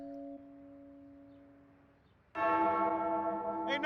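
A bell strikes once with a long, ringing, resonant tone, sounding like a church bell, after a quieter sustained hum.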